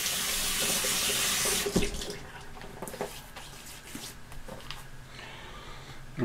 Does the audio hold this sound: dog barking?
no